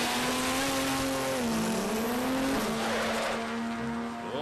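A turbocharged Ford Barra drag car makes a pass at a dragway test day, giving a sustained loud engine drone with a wavering tone and a squealing, skidding edge as it appears to lock up.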